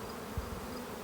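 Honey bees in a late-summer beeyard buzz in a steady, dense drone while being shaken, a continuous hum with no voices.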